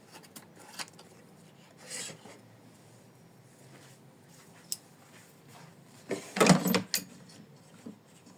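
Scissors trim excess felt and backing fabric from an in-the-hoop embroidered heart, giving a few short, quiet snips and rasps, with the loudest cutting burst near the end over a faint room background.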